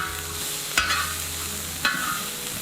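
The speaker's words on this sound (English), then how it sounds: "Then I added some tomatoes, onions, and jalapenos." Tomatoes, onions and jalapenos frying on a hot discada, a constant near sizzle broken by two sharp scraping stir strokes.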